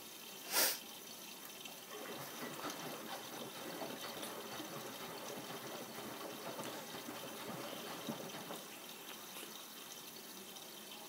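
A Miele W562 washing machine on an Easy-Care/Delicates 40°C wash, sudsy laundry sloshing and tumbling in the drum in a steady continuous churn, with one sharp burst near the start and no talking.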